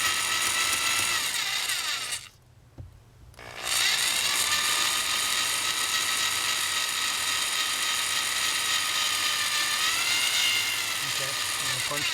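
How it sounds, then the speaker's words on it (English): A power drill bores slowly into the blend door area of a 2008 Jeep Grand Cherokee with a high, steady whine that cuts out briefly and then resumes, continuing evenly. "trying to keep the drill nice and straight"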